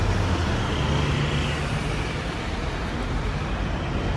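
Buses and other traffic roll past on a Bristol street near the city centre, a steady, loud roar of engines and road noise that eases slightly toward the end, with no voices.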